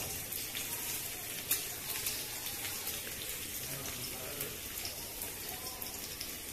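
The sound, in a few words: chopped onion frying in oil in a wok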